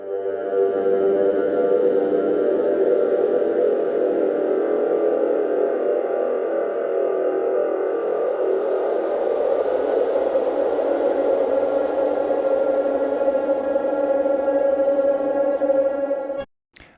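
A sustained, droning synthesized tone with ringing resonant overtones from an echo effect in Ableton, steady and loud for a long stretch before cutting off abruptly at the end.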